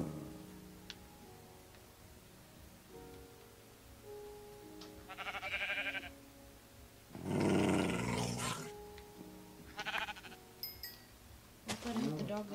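Minecraft dog and sheep sounds, short growls and bleats in separate bursts among game ticks and clicks, moderately close and fairly faint, with a person talking at times.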